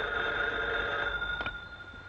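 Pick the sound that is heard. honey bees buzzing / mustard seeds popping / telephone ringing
telephone ringing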